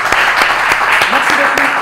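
An audience at a televised game show in Lubumbashi gives loud, dense, continuous applause with scattered sharp claps, while a voice carries through underneath.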